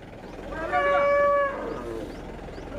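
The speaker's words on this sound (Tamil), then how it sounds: "இன்னைக்கு வந்து நிறைய மாடு திடீர்னு அதிகமாக இறங்கியிருக்கு" Cattle at a crowded cattle market in Vaniyambadi: one clear, drawn-out moo rises out of a steady murmur of crowd and livestock noise, fairly close and lasting under a second.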